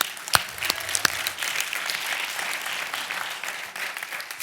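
A round of applause from a town hall meeting audience for a panel, with a dense wash of clapping and a few sharp nearby claps at the start.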